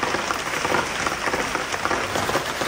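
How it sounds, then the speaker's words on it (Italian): Heavy rain pours down steadily outdoors on a travel day in Africa, a dense, constant hiss of drops drumming on surfaces, loud and unbroken with no talking. "Sta diluviando, zio."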